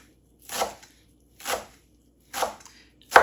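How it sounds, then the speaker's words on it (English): Four crisp knife strokes cut through balled-up kale on a cutting board, each a short crunchy burst spaced about a second apart, close and clear with no voices. "I like to kind of wad my kale in a ball and then just go in and cut as fine as I can"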